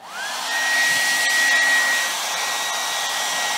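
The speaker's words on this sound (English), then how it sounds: "Now we're going to get a hair dryer, and then we're going to make sure" A handheld hair dryer switches on and blows hot air for car film wrapping, a steady close whirring rush with a rising whine at start-up, running alone without speech.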